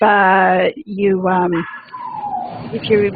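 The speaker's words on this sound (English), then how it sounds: "somebody's dog is barking right now" A dog barks and yelps nearby, loud and close, followed by a person talking, during an online meeting.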